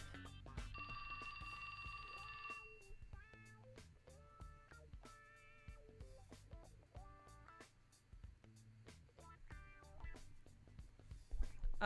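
A cell phone rings in the video game 428: Shibuya Scramble, its repeated electronic ringtone tones sounding in a regular pattern over a game music backdrop, fairly loud and close.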